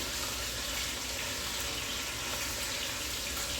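Oxtail stew with red wine simmering in a pot on a stovetop, a steady broadband bubbling hiss that holds even and continuous throughout with no talking.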